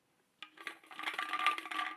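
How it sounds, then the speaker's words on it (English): Lottery balls rattle and tumble in a bowl during a shuffle before a racing grid draw, a faint, busy clatter of small hard objects that builds and continues for about two seconds. "So that's our initial shuffle for ball number 1"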